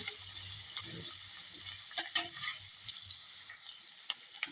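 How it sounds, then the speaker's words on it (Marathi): Finely chopped medium onion frying in oil in a pan for a tomato curry, a steady soft sizzle with occasional light clicks of stirring, close and alone. "आता हा कांदा घालूया कांदा आपल्याला छान सोनेरी रंगावर परतून घ्यायचा आहे"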